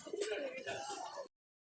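Pigeon cooing at a pigeon market, a close, steady warbling coo lasting about a second with a brief break before it stops.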